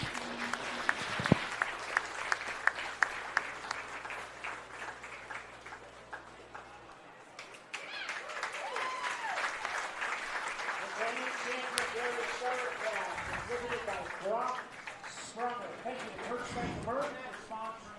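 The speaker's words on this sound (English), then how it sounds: "one last time, one big round of applause." Audience applause at a 4-H starter calf show at the Adams County fair, a long, steady round of clapping from a crowd, with voices and animal sounds mixed in and a few sharp knocks early on.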